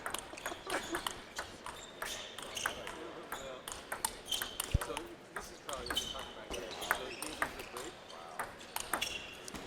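A table tennis rally in a youth tournament final: quick, irregular pings of the ball off paddles and table bounce back and forth, with crowd murmur and a commentator talking over the play.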